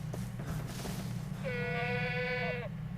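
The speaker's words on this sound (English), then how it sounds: "Oh, hello, goats." Goats bleating in Far Cry 3: one long wavering bleat from a single nearby animal, loud and clear over a low rumbling game ambience, with faint scattered noises before it.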